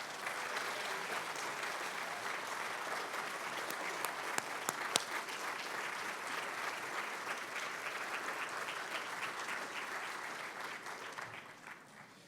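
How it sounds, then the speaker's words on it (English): Crowd applauding Leonard Levy at the Super Bowl LV kickoff event in Tampa Bay, sustained dense clapping with a few sharp claps standing out, fading slightly at the end. "let's give a round of applause for Leonard Levy"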